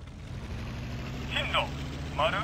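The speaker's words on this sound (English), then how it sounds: "Let's get the engine ramped up." A steady, low engine drone from a warplane in the flight simulator IL-2 Sturmovik hums faintly in the background, with short bursts of speech over it.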